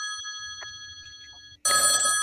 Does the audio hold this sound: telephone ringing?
yes